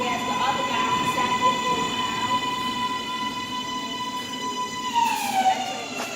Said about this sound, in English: it sounds like the train's getting ready to head back out